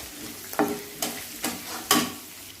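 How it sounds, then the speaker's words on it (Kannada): Chopped ginger and garlic sizzle steadily in a pan while cooking khara bath, with four distinct scraping stirs at regular intervals over the constant frying hiss, close and without talk. "ಶುಂಠಿ ಬೆಳ್ಳುಳ್ಳಿ ಸ್ವಲ್ಪ ಕಟ್ ಮಾಡಿದ್ದಿತ್ತು ನೋಡಿ ಅದನ್ನು ಹಾಕ್ತಾಯಿದ್ದೀನಿ"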